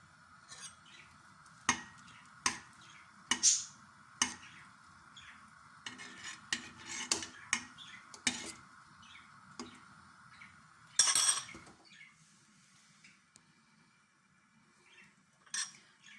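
A spoon stirs food in a pot on a home stove, with sautéed vegetables and chili peppers just added; sharp clinks of utensil against the pot recur irregularly over a faint sizzle, with no talking.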